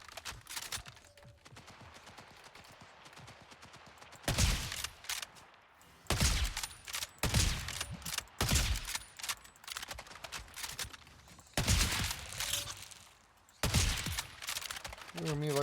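Sniper rifle gunfire in a shooter video game: sharp, loud single shots spaced a second or two apart, each with a short tail, over quieter game background noise.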